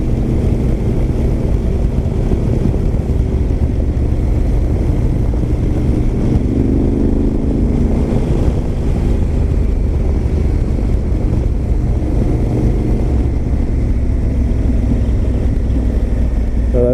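A Honda Africa Twin motorcycle cruising on a highway, its engine a steady loud drone blended with heavy wind rush across the whole stretch, no speech audible.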